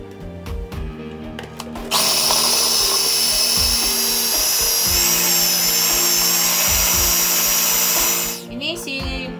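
An electric chopper grinds thawed spices and aromatics into a paste for goat trotter curry, a loud steady high whir running about six seconds, with clatter and a voice before and after.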